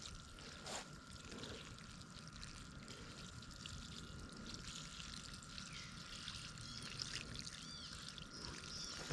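Water poured from a hose or can onto garden plants on a warm day, a steady soft splashing wash that runs evenly and fairly quietly throughout with no talk.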